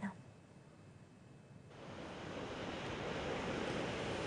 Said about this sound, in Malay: keadaan laut bergelora serta kenaikan paras air